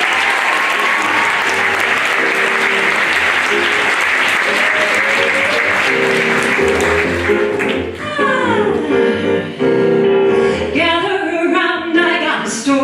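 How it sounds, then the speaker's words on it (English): Audience applause fills a hall at an arts lecture on Falsettos, loud and sustained from many hands, then thins as a piano and a singing voice enter. "please give me another round of applause and welcome Stephanie back to the stage"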